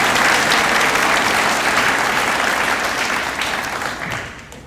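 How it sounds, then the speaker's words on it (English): Applause from a crowd at a school Veterans Day celebration, loud and continuous at first, then thinning and fading away toward the end. "So give a round of applause."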